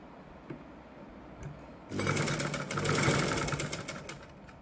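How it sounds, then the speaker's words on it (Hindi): A sewing machine runs a steady double line of stitching through palazzo fabric. After a quiet start it whirs loud and continuous for nearly three seconds, close by, with no talking. "डबल सिलाई करते हुए फैब्रिक को हम सिक्योर करेंगे।"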